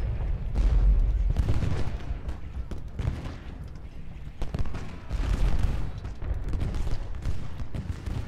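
Artillery fire in the Civil War video game Ultimate General Gettysburg, Union side at Benner's Hill, dense rolling booms and crackling volleys layered continuously with heavy low rumble.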